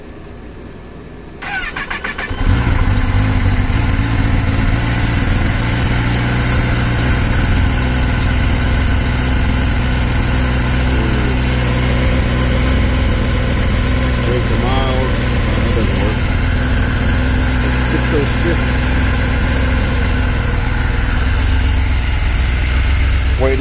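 A 2021 Kawasaki ZX-10R with a fender eliminator, around 600 miles old, fires up from cold and settles into a loud, steady idle, with a brief quiet moment before the engine catches.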